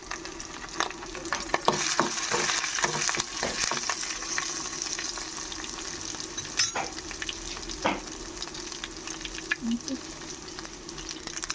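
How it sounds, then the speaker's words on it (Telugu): Curry leaves frying in oil in a pan for a beef liver fry, a steady close sizzle with crackles and scraping stir strokes throughout, no talk. "ఇందులోనే కొద్దిగా కరివేపాకు వేసుకుంటున్నాను"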